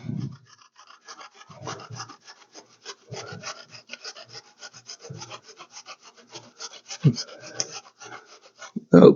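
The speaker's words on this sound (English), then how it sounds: "we'll do a little bit more grated zucchini" Zucchini rasped against a hand grater in a kitchen while making latkes, giving a run of close, repeated scraping strokes with a few louder knocks near the end.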